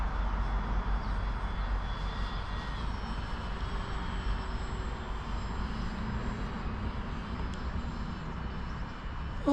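A twin-engine radio-controlled model airplane flies at about forty percent throttle, its engines giving a continuous, fairly quiet droning hum with strong low rumble and faint whine, steady and unbroken throughout with no voices.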